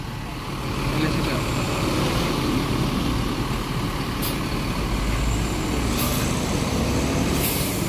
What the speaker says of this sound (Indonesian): Ini kebanyakan truk yang antri solar